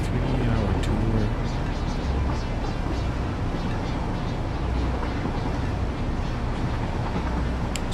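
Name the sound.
train riding along tracks in the video game Satisfactory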